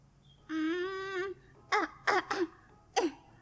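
A voice acts out a cartoon dog character gone hoarse from heavy rain: a drawn-out whimpering groan followed by several short, rough coughs in quick succession, close and clear.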